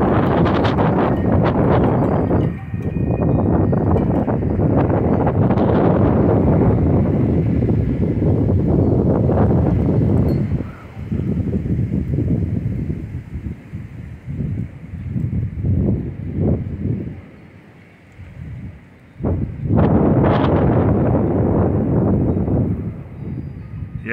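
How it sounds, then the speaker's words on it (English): Strong roaring wind gusts during a windstorm in Oklahoma and Kansas buffet the microphone in loud, sustained rumbling surges that briefly ease and then swell again, close and overwhelming, with no voices. "Yeah, there's a big, good gust there now."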